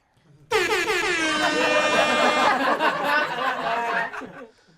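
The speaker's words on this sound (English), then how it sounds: "Can we get that air horn one more time?" A loud, sustained air horn blast lasting about four seconds, brassy and harmonic, with a slight wobble as it fades out.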